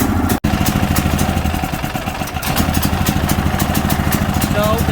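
A DuoMax generator converted to run on propane (LP) runs steadily, giving a loud, continuous engine drone with a dense, even rhythm and one brief dropout near the start.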